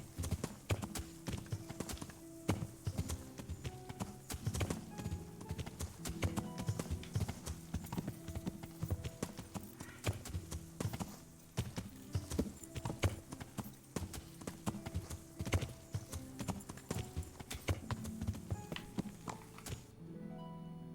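A horse ridden through the Kingdom Come: Deliverance video game makes steady, brisk clip-clop hoofbeats. The hooves beat close and evenly for the whole stretch, with faint thunks and no talking.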